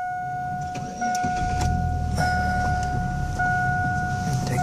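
A 2002 Chevrolet S10 pickup cranks and fires up about a second in, its low engine rumble rising and settling into a steady run beneath two steady dashboard warning tones.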